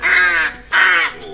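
A pet crow gives two loud, harsh caws in quick succession, close by, with a brief gap between them and no talk over them.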